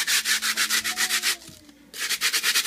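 Burnt toast is scraped for turkey stuffing in a rapid, rhythmic rasp of many close, loud strokes, pausing briefly near the middle before the scraping resumes.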